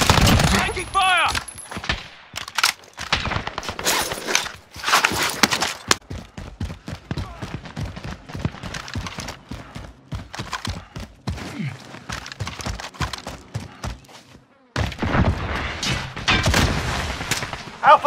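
Gunfire in the shooter game Warzone, Payload mode: repeated bursts and rapid volleys of shots with booms, dense then pausing and resuming, loud and close, with game radio voices calling out between the shots.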